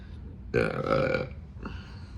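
A single loud, drawn-out burp from a person eating chili cheese dogs, rising abruptly and lasting about a second, followed by a short quieter vocal sound.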